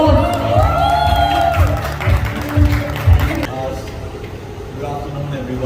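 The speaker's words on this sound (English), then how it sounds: "Can we have another huge round of applause?" Crowd at a press conference launching a talk show claps and cheers for a celebrity couple, steady and fairly loud across the clip, with voices and room noise mixed in.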